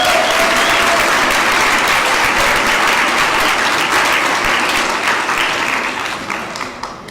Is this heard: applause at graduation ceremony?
yes